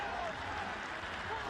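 Growing crowd at an under-18 men's rugby match between Georgia and Scotland cheering and applauding in a brief, dense wash of noise, heard from a distance.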